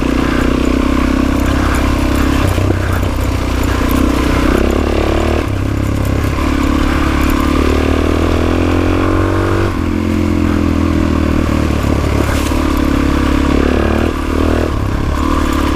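A motorcycle ridden through Bald Eagle State Forest, its engine droning loud and steady with shifting pitch as it speeds up and slows, heavy wind rumble and mechanical clatter throughout, no talking.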